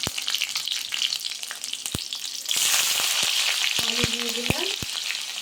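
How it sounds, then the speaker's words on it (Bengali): Panch phoron spices and green chillies hitting hot oil in a Bengali kitchen, scattered sharp pops at first, then a louder, fuller sizzle swells midway and carries on close with more crackles. "তেলটা গরম হয়ে গেল পাঁচ ফোড়ন দিয়ে দিলাম কাঁচা লঙ্কা দিয়ে দিলাম"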